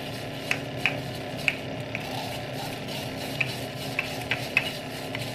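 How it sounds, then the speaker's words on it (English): A matcha whisk stirs tea in a small glass, giving a soft continuous swishing with a few light clinks of bamboo tines against the glass, quiet and close. "we're gonna get the matcha whisk. I'm gonna give it a little stir"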